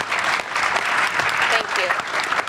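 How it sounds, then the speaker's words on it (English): An audience at a conference gives a dense round of applause, steady hand-clapping filling the room, with voices murmuring underneath. "So give yourself a round of applause."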